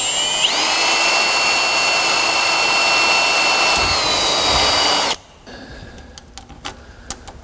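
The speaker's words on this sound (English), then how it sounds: "Let's drill those 5 holes." A power drill whines steadily and loudly for about five seconds while boring holes in a custom instrument cluster panel, then stops, leaving faint ticks and clicks.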